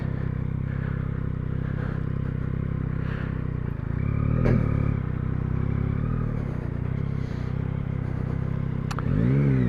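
A Yamaha MT-09 motorcycle idles steadily close by, then turns around and pulls away with a rising engine note, with a brief clatter midway and a sharp engine burst near the end.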